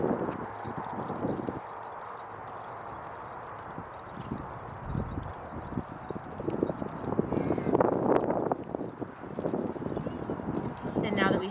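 Horse hooves clip-clop steadily during a horseback ride, a rhythmic clatter of moderate loudness with some rustling and a voice talking over it.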